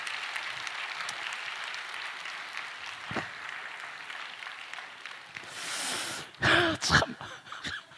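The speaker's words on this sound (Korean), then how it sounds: "여러분 너무 사랑해 주셔서 감사하고 박수로 한번 격려하겠습니다." Korean church gathering applauding in encouragement, soft diffuse clapping that swells near the end with a few louder bursts and a cough-like sound, fairly distant.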